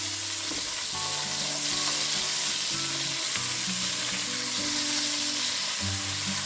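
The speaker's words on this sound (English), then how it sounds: "We can now put the onions in there. Just get those cooked up a slight bit there." Onions frying in a Polish bigos hunter's stew pot, a steady close sizzle with faint stirring and utensil movement throughout, no talking.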